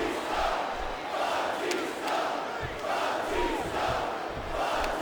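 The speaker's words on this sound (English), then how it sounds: "Now the fans start to cheer for him." Wrestling arena crowd cheering for Batista during a handicap match, a rolling roar of many voices that swells and surges in waves for about five seconds, with scattered shouts rising above the mass.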